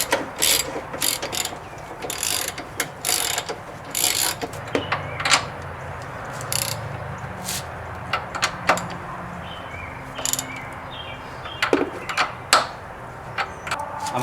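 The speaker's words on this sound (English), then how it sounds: "3/8 socket, ratchet, and extension. I'm going to drive those 14 millimeter nuts down." A hand ratchet with a 3/8 socket and extension drives 14 mm nuts down during Lancer motor mount work, giving repeated bursts of sharp clicking with short pauses between strokes, close and fairly loud.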